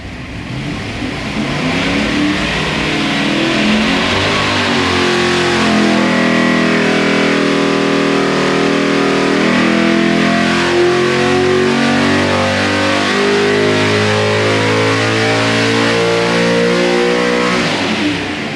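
Hemi V8 in the Mixed Up Boss project car roars through a sustained full-throttle dyno pull, its pitch climbing steadily for about fifteen seconds, loud and close, before cutting off.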